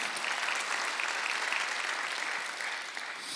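A Sunday worship congregation at a Korean church bursts into applause, a continuous, even roar of many hands clapping throughout that tapers slightly at the end.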